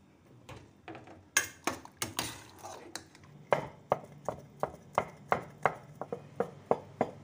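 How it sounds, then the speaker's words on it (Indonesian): A knife chops vegetables on a board for vegetarian dumplings, a run of sharp close taps that starts irregular and settles into a steady rhythm, with no talking over it. "Nah, udah dicincang semua."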